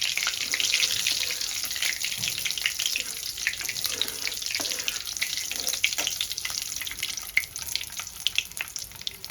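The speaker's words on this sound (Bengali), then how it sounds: "ফোড়নটা একটু ভেজে নেব।" Tempering spices frying in hot oil in a home kitchen, giving a continuous bright crackling sizzle with scattered pops, steady and close throughout with no voice over it.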